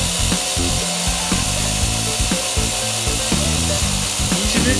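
A Tamiya Mini 4WD Eleglitter drive unit spins on a speed checker, giving a loud, dense, continuous whirring motor and gear drone with rhythmic rattling pulses throughout.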